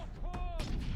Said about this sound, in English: I should use my sniper rifle just to try it out.